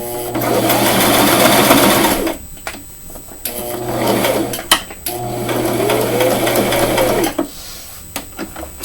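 Sewing machine stitching a tie onto a pink frock runs in three loud, close whirring bursts separated by short pauses with light handling noises.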